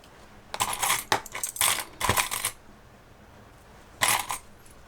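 Small metal sewing clips are handled while assembling a fabric pack, making several short bright clinking and rattling bursts close by, separated by quiet pauses.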